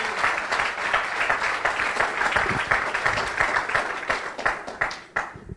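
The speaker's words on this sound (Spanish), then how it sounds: "Applause to the Lord." Church congregation applauding during a bilingual Spanish-English sermon, a steady wash of many hands clapping throughout at a fairly loud, even level, fading slightly at the end.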